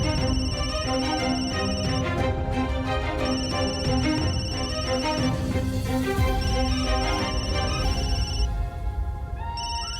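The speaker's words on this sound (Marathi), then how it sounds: "श्रावणीचा फोन." A phone ringtone plays loudly and continuously, a repeating electronic melody with bright tones over a busy background.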